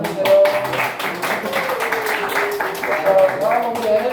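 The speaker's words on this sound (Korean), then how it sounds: "박수 한번 주세요" High school students clapping for a classmate in a classroom lecture, scattered light applause with voices talking and exclaiming over it throughout.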